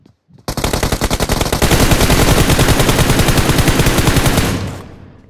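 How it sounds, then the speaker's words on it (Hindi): Sustained automatic gunfire from a mobile battle royale game rattles loud and close in a rapid, steady stream of shots lasting several seconds before cutting off, with no voices over it. "मैंने सही मौके पे फायर करके 1 किल तो ले लिया"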